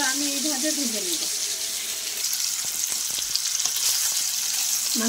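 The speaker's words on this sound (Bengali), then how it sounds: "সব মাছগুলো আমি এইভাবে ভেজে নেব।" Fish fries in sunflower oil with a dense, continuous close sizzle and occasional small crackles; a brief faint voice is heard at the start.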